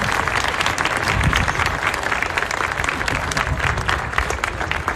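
Loud, dense audience applause follows a military orchestra performance, a continuous wash of clapping from a large crowd with no talk over it.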